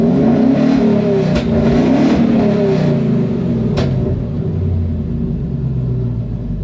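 A Ford Coyote V8 in a truck revs loudly with a steady, close rumble and a throaty engine note, settling toward a smoother idle near the end.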